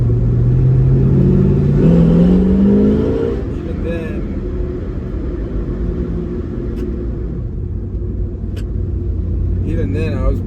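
A 1972 Slova Nova car accelerates in first gear, its engine note rising in pitch for a few seconds before settling into a steady low rumble, with a person talking over it throughout.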